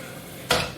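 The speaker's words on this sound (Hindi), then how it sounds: "प्रेशर कुकर को हम बंद कर देंगे" A pressure cooker lid is shut over mutton in water in a home kitchen, giving one sudden broadband metallic clunk after a quiet stretch, close and fairly loud, then fading with a brief rattle.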